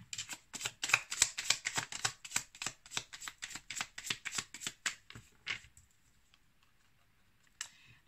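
Tree of Life oracle cards riffled and shuffled in a steady run of quick, crisp slaps for about five seconds, then near silence and a single light card snap at the end.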